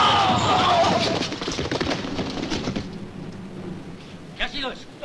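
An explosion rolls through a western war scene in a deep, booming rumble that dies away over several seconds. Faint crackles and a brief thud follow near the end.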